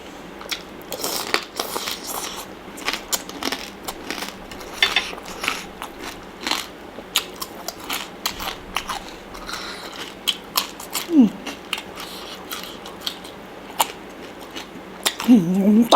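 Crunchy pork rinds being bitten and chewed alongside a spicy fresh shrimp salad, with repeated close crisp crunches and chewing clicks in an irregular rhythm and no talk.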